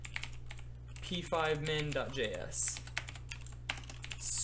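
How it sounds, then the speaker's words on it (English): Quick, uneven clicks of a computer keyboard being typed on while coding JavaScript, fairly quiet, with a person speaking briefly partway through and the tapping continuing around the words. "I'm really not with the typing today."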